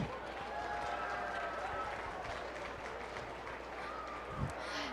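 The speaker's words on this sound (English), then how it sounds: "Let's give our goat showman a round of applause" Applause at a county fair junior goat showmanship class, a steady patter of many hands clapping from the audience, moderately distant and continuous throughout.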